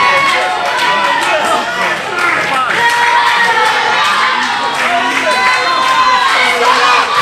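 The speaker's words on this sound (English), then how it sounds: "Crowd cheering Chris Wylde on" Crowd at a live wrestling match cheering, shouting and chanting loudly and steadily throughout, with children's shouts mixed into the dense, close roar.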